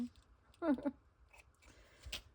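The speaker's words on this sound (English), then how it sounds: "Now I need my fabric scissors." A few quick fabric-scissor snips close by, short crisp cuts in a quiet room, with a brief voice sound before them.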